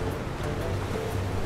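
Big waves from a murky high-tide ocean off an island surge in a dense, continuous wash of surf, loud and close with no talk.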